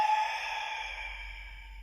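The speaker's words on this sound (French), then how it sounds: "J'expire par la bouche, mais en provenance de l'arrière-gorge." A slow, soft exhalation through the mouth from the back of the throat during a Pilates breathing exercise, a single steady breathy hiss that gently fades over about two seconds.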